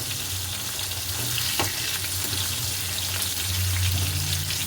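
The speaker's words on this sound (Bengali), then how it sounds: "এখানে মাছ ভাজা হচ্ছে আস্তে আস্তে" Fish pieces frying slowly in a home kitchen pan, four at a time, giving a steady close sizzle and crackle throughout with no talk.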